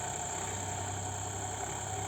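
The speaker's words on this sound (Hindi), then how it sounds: "रात को भी ट्रैक्टर चल रहे हैं और बुआई कर रहे हैं" Tractors run at night during maize sowing, giving a faint, steady engine drone with a constant low hum and a thin high whine, unbroken and distant, with no voices.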